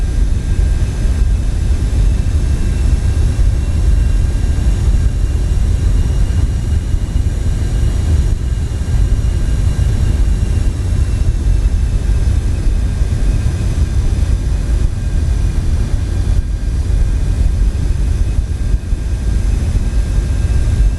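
Jet engines of an airliner in Microsoft Flight Simulator held at takeoff thrust, a loud, steady low roar with a faint high whine, continuous and unbroken.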